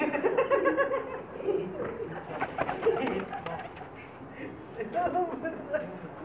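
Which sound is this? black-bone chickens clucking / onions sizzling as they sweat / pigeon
pigeon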